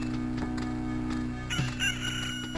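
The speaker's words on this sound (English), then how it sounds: "you're going to hear a rooster crow" Rooster crow marking a new day in the Loop Hero video game, a short crowing call sounding over continuous game music.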